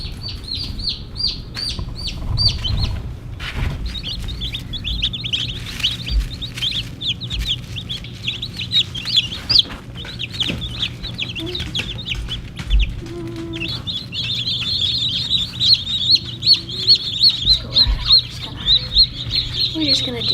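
Newly hatched chicks peep in a steady high-pitched chorus, close and continuous, while being placed under a brooder, with occasional handling noises and brief low voices beneath.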